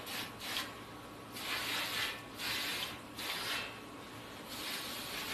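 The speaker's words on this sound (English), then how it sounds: "I'll just do a quick brake clean." Brake cleaner sprayed from an aerosol can onto metal to remove grease before flux-core welding, heard as several long hissing bursts with short gaps, fairly close and alone.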